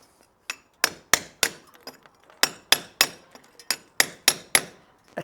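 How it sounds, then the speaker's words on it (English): A hammer strikes a bolster chisel to knock cement off a window reveal, making about a dozen sharp, ringing metallic hits in irregular bursts. Close and clear, with no voices. "Another option would be to use a bolster and a hammer."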